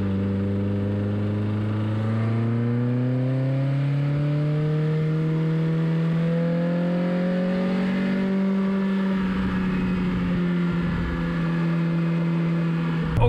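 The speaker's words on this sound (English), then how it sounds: "Now let's fire up the MR2 and take it for a drive." A Toyota MR2 AW11 engine running as the car pulls away, its hum rising and falling in pitch through gear changes, steady and close.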